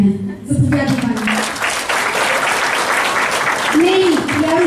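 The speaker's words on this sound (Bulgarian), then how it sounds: "тези хора действително заслужават вашите аплодисменти при излизането при мен" Audience clapping at a 25th-anniversary company event in Bulgaria, steady broadband applause that builds after a brief spoken opening and carries on loudly, with voices audible over it near the start and end.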